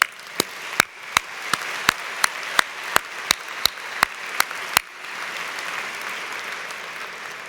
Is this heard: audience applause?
yes